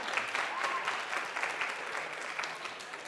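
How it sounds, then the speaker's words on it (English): An audience at an Easter Sunday church service claps for a few seconds in a steady, dense wash of applause, moderately loud and even throughout, with no voices over it. "Clap if you think it's true."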